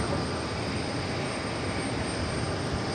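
Boeing 777-300 in from Frankfurt taxiing to its gate at JFK airport, a steady, continuous jet engine roar and whine at even loudness with no speech over it.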